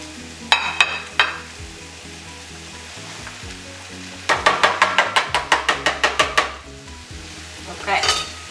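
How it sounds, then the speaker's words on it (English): Onion sizzles steadily in frying oil under a rapid series of metallic scraping and tapping strokes from a spatula stirring in a pan, with a humming background. "we're gonna start with the onion with a little bit of an oil, frying oil"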